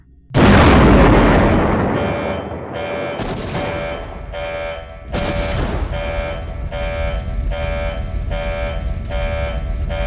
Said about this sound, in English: Generator exploding in 6, 5, 4, 3, 2, 1.